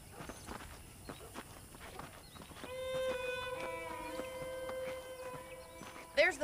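Horse hooves clip-clop in Red Dead Redemption, soft scattered hoofbeats at first, then joined by a sustained tonal hum that lingers under the steps.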